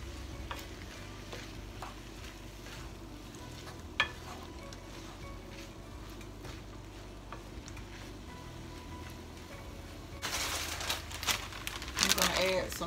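Sausage and marinara sizzle together in a pan while jambalaya cooks. A steady low frying hiss sits under occasional stirring and scraping, with a brighter burst of crackle near the end.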